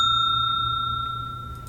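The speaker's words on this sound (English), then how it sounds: "Tinkle that little bell." A small bell rings once with a bright, clear strike. Its metallic tone hangs on and slowly fades, heard alone without any talk.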